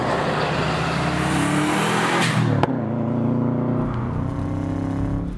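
Subaru Forester STi Type-M with a muffler delete revs hard from the interior, a loud raspy engine climbing then dropping off, followed by steady engine drone and further throttle changes.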